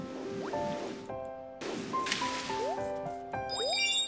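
Bubbly, squishy water effects from the yarn-world platform game Kirby's Epic Yarn, heard alongside bright synth tones and rising chime-like glides from the game's music, with several short splashy bursts across a few seconds.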